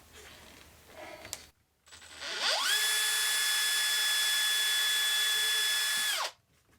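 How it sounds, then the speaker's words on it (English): A power drill bores into a wooden cabinet door for a bus kitchen: after a short rev, a loud, steady high whine holds for about four seconds, close by, then cuts off, with no talking. "I'm just going to have to try and drill it as straight as I can."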